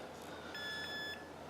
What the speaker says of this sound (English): You hear a beep.